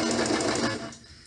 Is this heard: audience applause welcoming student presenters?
no